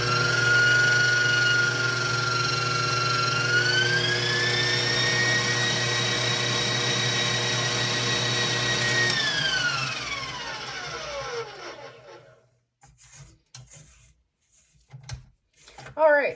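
An electric mixer beats krumkake batter with a loud, steady high whine that shifts pitch briefly, then winds down and stops, leaving a few quiet clatters afterward.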